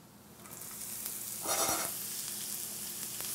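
Oyster mushrooms cook in oil, releasing their water in a continuous crackling sizzle that swells briefly into a louder hiss partway through.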